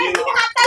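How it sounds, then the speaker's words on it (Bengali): A man claps his hands in a quick, close series of sharp claps, with a voice faintly mixed in. "বাবা হাততালি দিচ্ছে"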